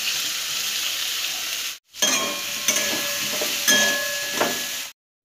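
Jackfruit and potato pieces dropped into tomato and fried spices in a pan, a bright sizzling hiss cut by a brief gap, then crackling sizzle with a few stirring scrapes before it stops.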